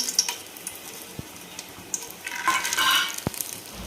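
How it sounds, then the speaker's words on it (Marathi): Bay leaves drop into hot oil left from frying onions for chicken biryani, bursting into a short, brighter sizzle over faint crackling, with a couple of small clicks nearby. "तर तेल छान गरम झाल्यानंतर तेजपत्ता टाकू आपण"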